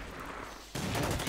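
Gunfire in the WW2 strategy game Order of Battle: a sudden loud burst of shots and rumbling blast noise cuts in partway through and stays dense and close to the end, with no talking.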